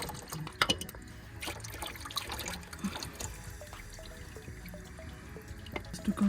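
Oil drips and trickles steadily from a Honda Civic engine's drain plug opening into a catch pan, a close, continuous patter with a few louder drops, no talking.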